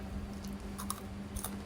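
Crunchy cookies made from Indomie noodles with cheese and chili powder are bitten and chewed close up, giving a few crisp crunches over a steady low hum.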